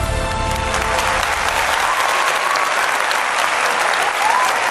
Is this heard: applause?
yes